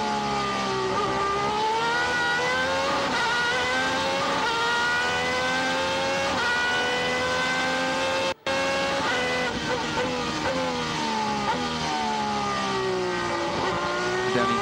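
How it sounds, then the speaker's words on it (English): Superleague Formula open-wheel race car at the Nurburgring, onboard engine howling loud and close, revs rising and dropping through repeated gear shifts, with a brief cut midway. "down into second gear, back on the throttle."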